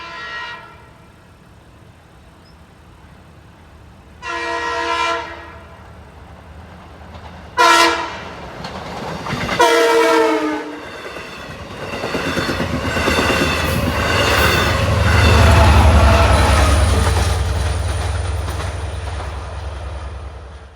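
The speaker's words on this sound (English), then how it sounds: "here's our first westbound train, an equipment run back to Jamaica." A westbound Long Island Rail Road equipment train heading to Jamaica passes through Oakdale. Several loud horn blasts sound first, then a building rumble of wheels and cars rolls close by, with faint squealing as it passes.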